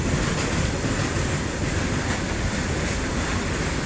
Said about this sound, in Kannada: ಸೌಂಡ್ ನೋಡ್ರಿ, ಡಗ ಅಂತ ಹೆಂಗ್ ಸೌಂಡ್ ಕೇಳಿಸ್ತಾ ಇದೆ ಗೂಡ್ಸ್ದು.